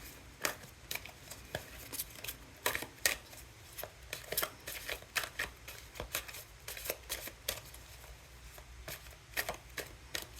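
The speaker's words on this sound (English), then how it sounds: "continue to shuffle" Tarot cards are being shuffled in quick, irregular riffling bursts of crisp papery slaps, close by and steady, with no talking.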